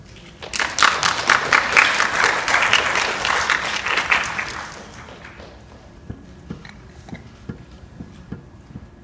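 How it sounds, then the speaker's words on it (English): Enthusiastic applause from an audience fills the first few seconds, then fades into scattered claps and a few lingering taps. "Please offer another round of applause for our delightful presenters."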